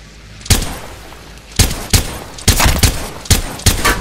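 Gunfire in the Apex Legends video game: a loud burst of shots rings out, then after a pause several rapid volleys crack in quick succession, close and dominant over a low background.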